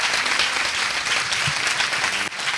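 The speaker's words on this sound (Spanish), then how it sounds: "Un aplauso, por favor." Brief burst of lively audience clapping at a Spanish-language talk, close and dense throughout the couple of seconds, with a faint low murmur beneath it.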